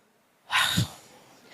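A person sneezing once during a religious lecture: a sharp, loud, breathy burst that fades into a quiet room, with brief soft breath noise afterward.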